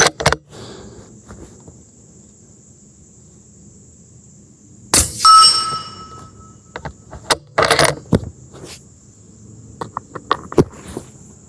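Several muffled suppressed shots from a Remington 700 firing .308 subsonic rounds, spaced apart, one followed by the bright metallic ring of a steel plate struck at 50 yards.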